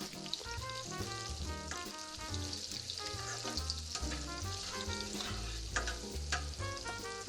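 Butter and brown sugar frying in a pan while being stirred, a soft steady sizzle and crackle at moderate distance beneath faint background music.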